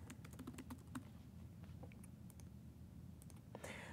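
Keystrokes on a computer keyboard as a project name is typed while setting up a SQL Server database project, a quick irregular burst of close clicks, with a brief louder clatter near the end and no talk.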